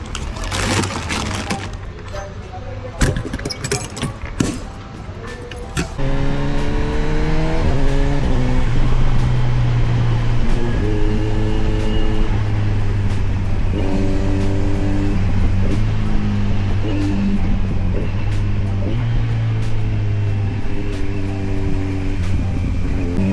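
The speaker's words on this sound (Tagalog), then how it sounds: "Nothing beats the smoothness of an inline 4 engine, guys." A Kawasaki Versys 1100 SE motorcycle's inline-four engine runs smoothly while riding, with buffeting wind noise at first, then repeated rising revs through the gears at close range.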